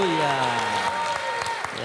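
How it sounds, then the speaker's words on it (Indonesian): Church congregation clapping forms a steady, loud wash of applause, with a voice carrying over it throughout. "Sambil tepuk tangan, mari katakan haleluya."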